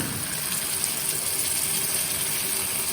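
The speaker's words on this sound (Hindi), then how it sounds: "तो मैं थोड़ा सा पानी डाल रही हूँ" Water poured into a pan of potatoes cooking for a rustic aloo paneer sabzi, a steady, unbroken gushing hiss that runs without pause, close by and with no voices.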